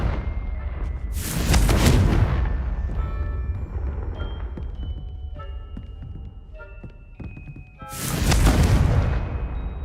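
Two heavy booming blasts from the Confringo fire spell in Hogwarts Legacy, each a loud broadband burst with a rumbling tail, separated by several seconds of quieter tonal game sounds and ambience.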